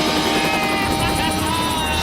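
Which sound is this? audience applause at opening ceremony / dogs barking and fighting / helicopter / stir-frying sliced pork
helicopter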